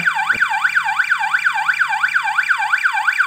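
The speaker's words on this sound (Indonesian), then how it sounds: "Suaranya seperti sirine ambulan ya." A flood detection sensor alarm wails in a fast, steady up-and-down sweep like an ambulance siren, repeating evenly without pause, with a brief click near the start.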